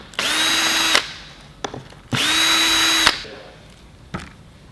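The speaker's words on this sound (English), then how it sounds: "I'm just going to use a drill for this exercise." A power drill whirs in two sustained bursts of about a second each, unscrewing screws from an electric skateboard's battery case, with a short click or clatter after each run.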